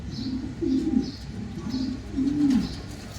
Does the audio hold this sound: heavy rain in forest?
no